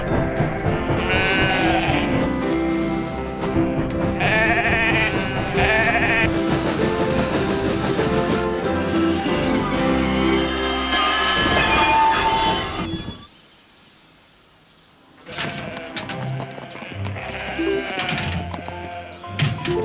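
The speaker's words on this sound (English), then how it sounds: "at least the sheep are enjoying our strawberries, Alf." Cartoon sheep in a Postman Pat episode bleat repeatedly over background music, several loud wavering calls in a row, then a short lull before more bleats return.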